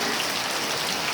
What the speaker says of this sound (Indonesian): Keras ke hujan kan?